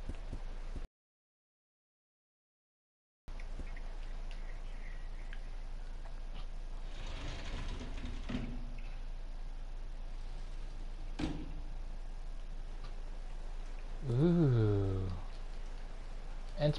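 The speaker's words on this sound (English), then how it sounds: "It's pouring a rain already." Steady pouring rain in the video game Resident Evil 0, a continuous wash of downpour running throughout, with a gap of silence near the start and a few game effects and a short tonal sound layered on top.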